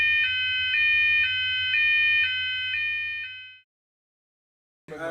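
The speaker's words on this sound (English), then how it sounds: "It's a fire alarm, so we're actually on fire." An indoor fire alarm sounds loudly with a rapid pulsing electronic tone, repeating in even bursts for a few seconds before cutting off into silence, followed by a brief rustle.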